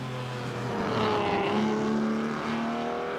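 In the Assetto Corsa driving game, a Ferrari engine accelerates with a loud, continuous drone whose pitch climbs through the gears, dropping briefly at each shift before rising again, with no voices.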